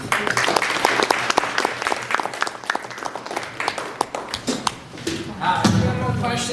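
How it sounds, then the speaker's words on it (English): A live audience gives a round of applause after a talk at a club meeting, dense clapping with sharp claps standing out, fading briefly before a final swell, with a voice talking beneath it. "Round of applause."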